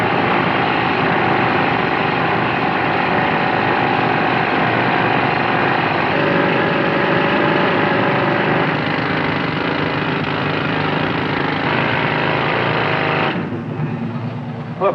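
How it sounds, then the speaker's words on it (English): A loud, steady mechanical roar from a drilling machine drones on without a break close by, then drops slightly near the end. "Start drilling."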